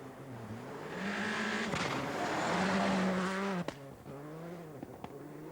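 Rally car with a broken exhaust racing at the 1998 Rallye de Liège, its engine droning and revving loudly and harshly close by, with gear shifts breaking the rising tone.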